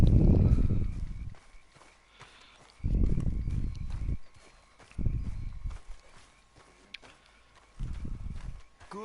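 Horse hooves clip-clop in Red Dead Redemption 2 as the rider arrives to hitch the horse, coming in several loud bursts of walking steps separated by quieter gaps, with faint ambient game sounds between them.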